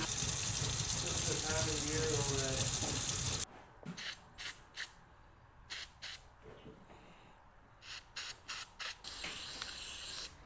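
Short bursts of white lithium grease sprayed from an aerosol can onto the window regulator of a 1975 Ford F150, several quick hisses in a row, following a longer steady rush of spray or running water.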